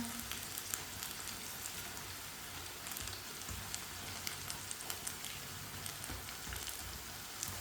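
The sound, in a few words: potato pakoras frying in oil on the stove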